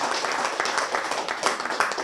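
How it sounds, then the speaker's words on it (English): An audience applauds at a fishing equipment signing ceremony in Castle Bruce, with dense, steady clapping filling the space throughout. "yourself a big hand of"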